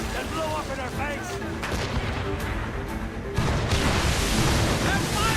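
Ship cannons fire in a naval battle in Assassin's Creed Rogue, with repeated booming volleys over ocean waves and shouting crew voices, and the barrage grows louder near the end.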